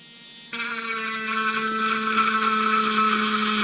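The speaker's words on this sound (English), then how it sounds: "So let's try drilling through that." A mini drill on third speed spins up suddenly and bores into thin sheet metal about the gauge of a shell casing, a steady high-pitched motor whine with a grinding edge that holds on loud and close.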